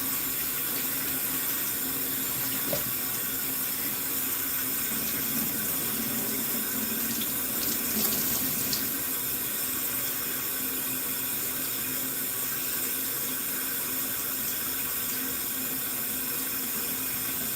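A cold tap runs steadily into a sink while a face cloth soaks, a constant close hiss of water with small splashy fluctuations and no talk.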